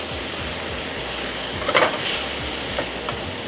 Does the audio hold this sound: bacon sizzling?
yes